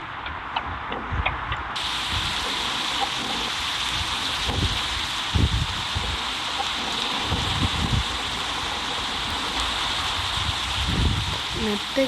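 Steady rain with occasional low rumbles of thunder in a bus driving video game, with a constant broadband hiss throughout and a voice talking over it at times.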